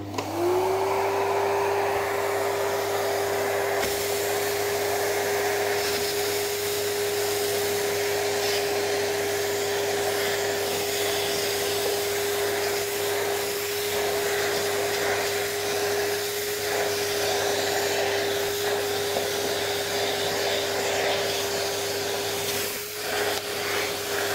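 A Rowenta Silence Force vacuum cleaner switches on and runs steadily, a loud, continuous motor whine with broadband airflow hiss that stays even throughout, with no talking.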